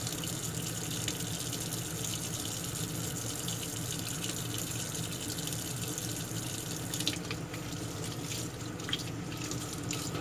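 Hot soapy water runs steadily from a faucet over the parts of a Remington 1858 revolver as they are rinsed in a sink, a continuous close hiss and splash with no talk.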